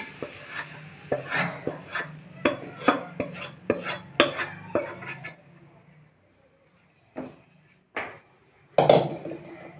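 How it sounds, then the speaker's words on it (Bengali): A homemade Bengali sweet being set onto a ghee-greased plate, heard as a burst of close metallic scrapes and clinks of utensil on plate, then a pause and a few scattered knocks. "আমরা ঘি মাখানো প্লেটে এটি রেখে দিচ্ছি"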